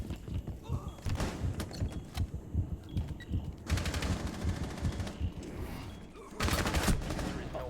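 Rapid automatic gunfire bursts in the online shooter Rainbow Six Siege during a ranked match, loud repeated volleys with short gaps, layered over game effects, no speech.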